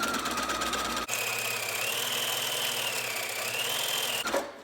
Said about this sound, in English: we sew our 1/4 inch seam allowance again, backing up at the beginning and ending of your stitching